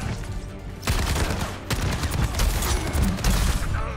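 Dense, continuous weapon fire rattles through a fight in Overwatch, where Roadhog's one-shot weapon is in play, with loud overlapping bursts broken by a brief gap before the barrage resumes.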